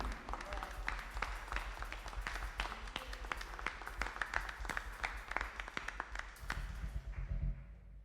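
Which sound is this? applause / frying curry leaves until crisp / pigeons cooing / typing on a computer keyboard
applause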